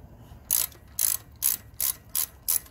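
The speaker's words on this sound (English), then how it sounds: "Now let's loosen these bolts." A ratchet loosens bolts on a Briggs and Stratton engine on a Murray lawn tractor, making six crisp, close clicking strokes at an even rhythm with quiet gaps between them.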